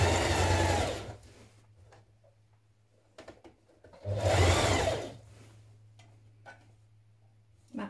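A sewing machine stitches the side seams of a spring top, running in two short bursts of steady motor whir and needle ticking, close and moderately loud, separated by quiet pauses with small handling clicks.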